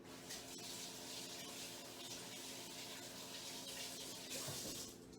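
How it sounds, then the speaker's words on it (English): A kitchen tap runs steadily as hands are rinsed under it, a soft continuous splash and hiss lasting several seconds with slight changes as the hands move, with no talking. "I'm gonna wash my hands real quick."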